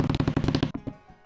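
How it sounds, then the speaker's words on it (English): Packing tape is pulled off a roll in a rapid series of loud, rasping bursts to fix a paper pattern down for cutting leather shoulder armor, the ripping slowing and fading near the end. "it's really simple to just tape your pattern down."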